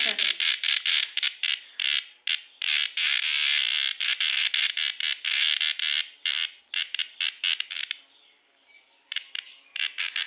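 A cicada buzzes loudly and close by in rapid, harsh bursts broken by short gaps. The rhythm is uneven, and the calls fade into thinner, quieter buzzing near the end, with no voices over them.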